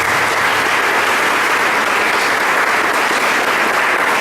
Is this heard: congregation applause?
yes